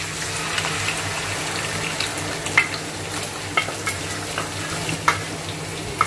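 Leftover masala sizzling in hot vegetable oil, a loud, continuous frying hiss with sharp crackles and pops scattered throughout, close up.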